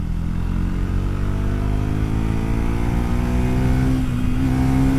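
A Triumph Tracker 400 motorcycle engine pulls hard through the mid-range, its steady harmonic drone rising in pitch as the bike accelerates past 60, loud and close over continuous wind and road noise.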